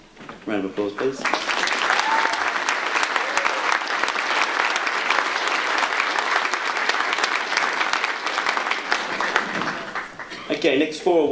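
A school awards ceremony audience breaks into sustained, full applause lasting around ten seconds, with a voice speaking briefly before and after the clapping.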